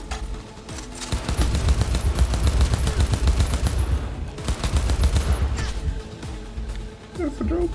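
Rapid automatic gunfire at a robot in the video game Cyberpunk, a loud, dense, sustained stream of shots with brief gaps between bursts.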